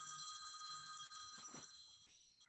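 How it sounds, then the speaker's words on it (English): A phone rings during a school board meeting, a faint electronic ringtone of repeating bright tones that cuts off near the end, with no voices over it. "That's my phone going off."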